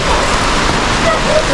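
Steady rain falls outdoors, a dense loud patter and hiss that holds evenly throughout, close and continuous.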